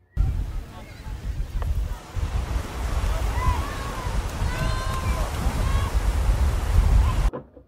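Ocean waves wash onto a beach in a continuous loud rumble with wind buffeting the microphone, with high calls that may be seagulls faintly over the surf.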